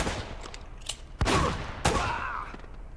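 Two sharp gunshot bursts ring out in Uncharted: Drake's Fortune, the second followed by a ringing tail, over a low background of game ambience.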